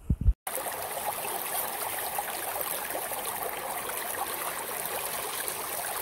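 Creek water rushes steadily through a gold sluice, a continuous close trickling and splashing wash at moderate level, preceded by a brief thump at the start.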